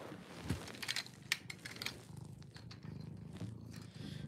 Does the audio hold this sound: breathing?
no